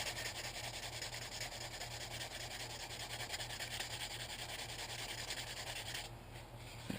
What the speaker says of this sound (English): I'm going to just sand this a little bit, make it nice and smooth where it isn't cut like that